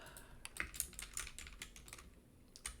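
Fingers type on a computer keyboard in quick, uneven bursts of close, crisp key clicks, fairly quiet, with no one talking.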